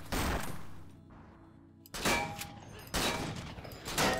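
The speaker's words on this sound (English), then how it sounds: "Oh, he's got a big gun." Heavy weapon fire from a big gun in the video game Cortex Command comes as loud, dense bursts of booming shots, repeating in several volleys with short gaps and no voices.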